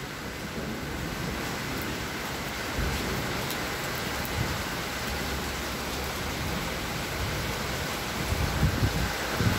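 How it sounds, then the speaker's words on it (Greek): Heavy rain pours steadily through a strong storm in Athens, a dense continuous wash with gusting wind building toward the end, no voices heard. "Πολύ βροχή, φεύγουν τα φύλλα και ο αέρας δυνάμωσε πάρα πολύ τώρα"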